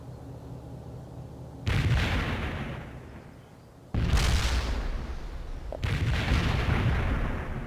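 Three heavy mortar strikes in a shooter game, each a sudden booming blast followed by a long rolling rumble that fades, loud and close with no talk.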